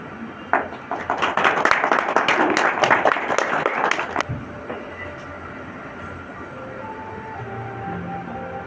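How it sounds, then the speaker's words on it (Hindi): A burst of audience applause lasting a few seconds, dense and fairly loud, then cutting off to a quiet room with faint background murmur. "आप लोग तो तालियां बजा ही सकते हैं।"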